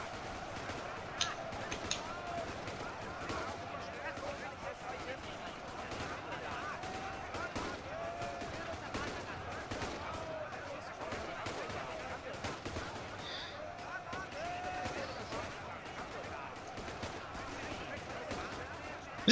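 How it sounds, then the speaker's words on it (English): Gunfire crackles in a large WWII US versus Japan battle in Ultimate Epic Battle Simulator, with dense overlapping rifle and machine-gun shots rattling on continuously at mid distance. "Oh, and they're firing now."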